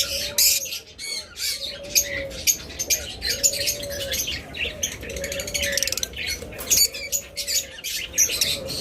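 An olive opaline pet bird, among other caged birds such as lovebirds and budgerigars, squawks and chirps up close in rapid repeated bursts, with soft cooing underneath.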